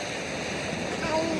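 Steady broadband rush of flowing river water at a village riverside, continuous and fairly close, with faint voices in the background.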